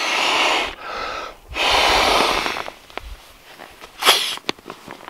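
Two long, forceful breaths blown into an inflatable camping pillow on a backpacking trip, each a sustained rushing puff with a short pause between, followed by a few faint clicks and a brief squeak of handling.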